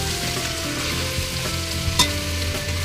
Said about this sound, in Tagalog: Ayan, nagmamantika na guys.